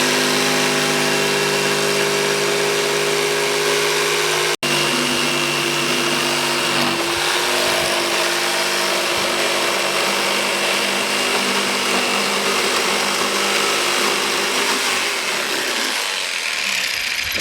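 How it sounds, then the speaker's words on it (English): A jigsaw cutting a hole in MDF for a dollhouse door, loud continuous buzzing drone close by with a brief break near the start, running steadily until it winds down at the end. "so there's my jigsaw. I'm going to start cutting the hole out now"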